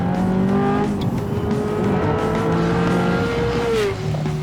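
A car engine with an off-road exhaust revs hard and loud, a raspy barking tone climbing and holding in pitch before dropping at the end, with a faint squeal in the mix.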